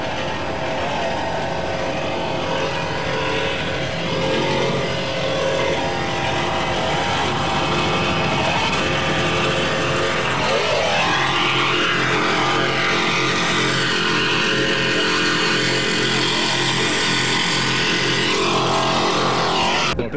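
A 50-foot aluminum Cougar Cat racing boat roars at speed, its engine a loud sustained drone with a pitch sweep midway as it passes, no talk over it.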